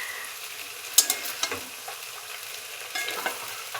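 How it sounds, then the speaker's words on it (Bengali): Potatoes and meat fry with spices in a pan, a soft sizzle beneath sharp scraping clicks from a spoon stirring at irregular intervals, close and fairly quiet, no voices. "মশলাটা ভাজার পর দিয়ে দিয়েছি আলু আর মাংসটা।"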